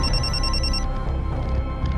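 A mobile phone rings with a bright repeating electronic tone for nearly a second, then stops, leaving a muffled room with a low background rumble.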